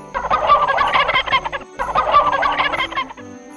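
A turkey gobbling in an animal-learning cartoon: two loud, rapid rattling gobble bursts in a row, each about a second and a half, with a brief gap between them.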